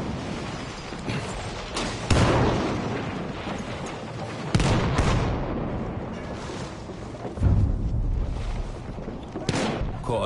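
Artillery fire in a video game sounds as repeated heavy booms, each a loud blast followed by a rolling rumble, spaced a couple of seconds apart over constant battlefield noise.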